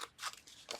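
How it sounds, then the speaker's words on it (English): Scissors cut through scored card stock for a handmade double pull card, giving two or three quick, crisp snips close up. "Now you want to cut out the score line"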